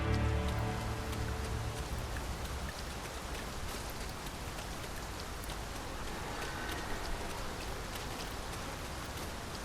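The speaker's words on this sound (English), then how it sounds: "We must be really down on our luck to get caught out in such a downpour." A heavy downpour in Dragon's Dogma 2 hisses steadily and evenly, with dense rain pattering on surfaces throughout and no talk over it.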